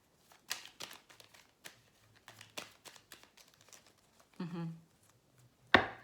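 Tarot cards are shuffled by hand at close range, a run of quiet, brisk riffling and sliding taps followed by a louder flutter and a sharp final snap of the deck.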